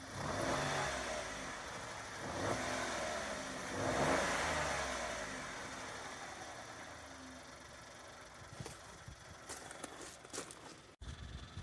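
A car is taken for a short drive down the road and back, its mid-pitched engine revving and accelerating up close, then settling back toward a steadier running note near the end.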